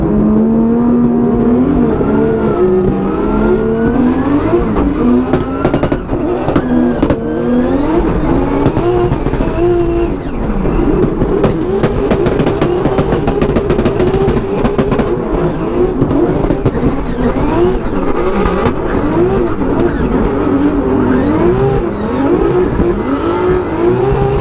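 Drift cars at an LZ World Tour event at Mondello, engines revving hard and continuously with tires squealing, loud and close, with shifting pitch as the cars slide through corners.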